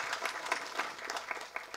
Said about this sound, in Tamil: நம்ம ஒரு பெரிய கைத்தட்டல் அவருக்கு கொடுத்து அசம் பண்ணுவோம்